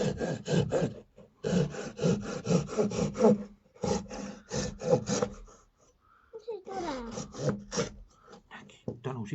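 A hand saw cuts through wood in quick, steady back-and-forth strokes, broken by short pauses, with people talking nearby over the sawing.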